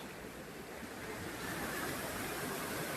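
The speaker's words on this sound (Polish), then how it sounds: "Wodospad." A waterfall fed by clear spring water in a village in Tuburan, Philippines, gives off a faint, continuous rushing hiss that swells slightly, with no voices.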